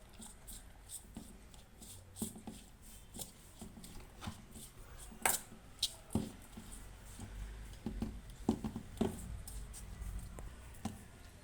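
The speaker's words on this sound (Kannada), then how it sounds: "ಈಗ ಇದಿಷ್ಟು ಇಂಗ್ರೀಡಿಯೆಂಟ್ಸ್ ಚೆನ್ನಾಗಿ ಮಿಕ್ಸ್ ಮಾಡ್ಕೊಳ್ಳೋಣ" Tomato, onion, chaat masala and lemon juice for a makhana chaat are stirred in a bowl with a spoon, giving soft, irregular scraping taps and clinks, close and fairly quiet, with no talk.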